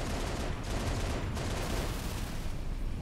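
Gunners in Halo: Reach fire on Legendary difficulty in a loud, continuous burst of rapid shots that blur into a dense roar, with no pauses.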